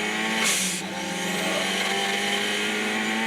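Onboard a Ford Sierra race car at the 1991 Bathurst race, the engine droning at high revs with a shifting pitch, steady and loud from inside the car, no talk.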